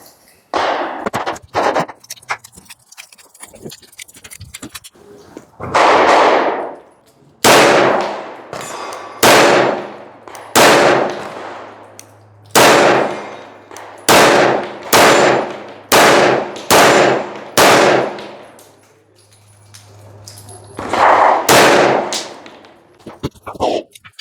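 A PSA Dagger Compact pistol fitted with a compensator fires a string of loud, close gunshots, starting with a few quick cracks and then single shots with long ringing tails at a steady pace, plus a few ragged bursts.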